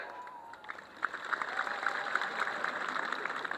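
A church congregation claps in a big hall, a dense, steady round of applause building up and continuing at a fairly distant, moderate level.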